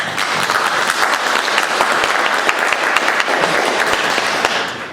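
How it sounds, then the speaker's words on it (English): A room full of people applauds volunteers at a civic leadership forum, sustained even clapping with sharp individual claps standing out before it fades at the end. "Let's give them a round of applause."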